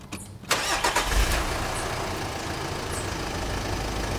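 A vehicle engine cranks briefly with a turn of the key, catches about half a second in, and settles into a steady, fairly loud idle that continues to the end without any talking.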